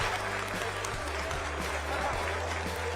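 Steady applause from a large crowd celebrating the Chandrayaan-3 Moon landing, continuous and dense throughout, with a low hum underneath.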